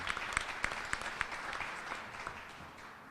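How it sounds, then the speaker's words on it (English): An audience at a news conference for the Tops St. Patrick's Day Parade claps in applause, steady mid-distance clapping with a few sharp individual claps that gradually fades, with no talk over it. "I would like to take this opportunity to recognize their efforts with another round of applause."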